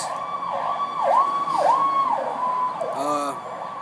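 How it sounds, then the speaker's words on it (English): A wailing emergency siren sweeps up and down in repeated cycles, fairly close and steady, with a brief horn-like blast near the end. "Sirens."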